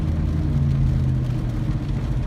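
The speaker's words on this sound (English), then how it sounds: "There's a very loud Dodge Ram next to me." A loud Dodge Ram pickup idling close by while hauling a load, a deep, steady low engine rumble with a faint whirring hum, continuous and with no voices over it.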